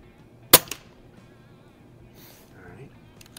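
A single sharp rifle shot fired outdoors from a Notos rifle fitted with a CVLife Jackalhowl 1-4x20 LPVO scope, loud and close, followed by a brief echo and a quiet tail.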